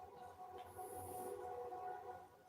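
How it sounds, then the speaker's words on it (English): Early-morning train rolling past in the distance around eight o'clock, a steady low rumble with a brief high hiss or squeal, no voices. "There's my train."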